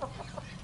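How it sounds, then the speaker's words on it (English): Soft clucking from chickens nearby on a farm, a few short murmuring calls against low background noise. "There's some sweet chickens in here."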